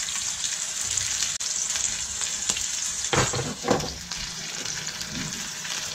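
Porcini-crusted sous vide ribeye steak sears in a hot pan with a steady, close frying sizzle, broken by a couple of brief louder bursts of spatter midway.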